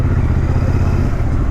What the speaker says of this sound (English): even the exhaust note on this bike is amazing.